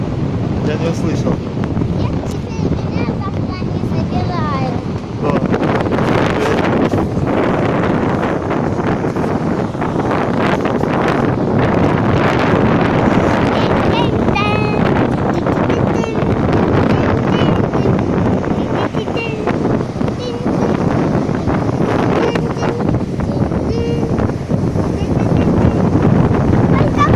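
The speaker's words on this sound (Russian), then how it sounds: "Да ну, какой ветер. Сдувает, да?" Strong northeast wind during a Black Sea storm at Chornomorsk buffets the microphone with loud gusty roaring and rumbling that fluctuates throughout, with surf in the background and people talking under it.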